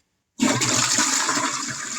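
A rear outlet toilet flushes with a sudden strong rush of water that starts abruptly and stays loud and steady, with no talking.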